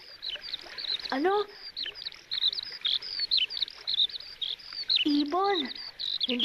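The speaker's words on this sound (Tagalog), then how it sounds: "Ngayon na lang ulit ako nakarinig ng mga ibong kumakanta." Small birds chirp and tweet repeatedly in the open beside a river with soft grass, their calls steady and fairly close, with brief voice-like sweeps and animated dialogue passing under them.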